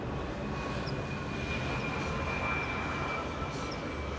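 A SkyWest Embraer E175 airliner flies in toward LAX, a steady, fairly faint engine drone with a thin whine, even and unbroken throughout.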